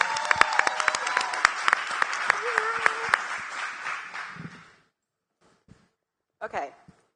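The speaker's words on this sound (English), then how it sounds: "Let's give her a warm round of applause." A crowd at a Tulsa product pitch night gives a warm round of applause as a presenter comes up, with lively clapping and a few cheers for about four seconds before it cuts to near silence and brief voices.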